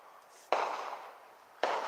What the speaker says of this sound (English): Them are firecrackers. I mean, that's not a gun.